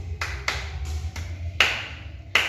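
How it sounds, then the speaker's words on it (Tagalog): Schoolchildren in a classroom clap in unison for themselves, a quick series of about six sharp, evenly spaced claps, the last two louder, with no talking over them. "Bigyan natin ng limang palakpak ang ating mga sarili."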